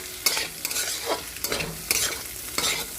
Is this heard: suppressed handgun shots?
no